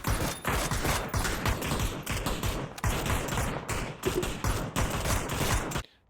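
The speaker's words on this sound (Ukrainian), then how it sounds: "Настрілюють по джуніорам." Rapid gunfire in the battle royale game PUBG on the Erangel map during a league match, loud bursts of automatic shots crowding the whole stretch with brief breaks and a sudden stop at the end.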